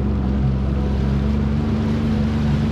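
A motorboat engine runs steadily out on the water during a camping trip, a loud constant low drone with no voices over it.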